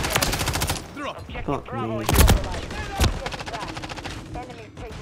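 Rapid gunfire from Call of Duty Modern Warfare III, with loud bursts and sharp single shots cracking through the whole stretch, mixed with game effects and someone speaking briefly.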